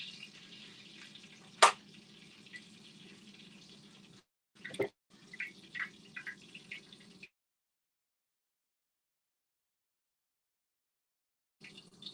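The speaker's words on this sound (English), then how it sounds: "Got bacon grease popping at me." Bacon grease pops and sizzles in a frying pan, faint crackling with a few sharp spits, then silence before a brief return.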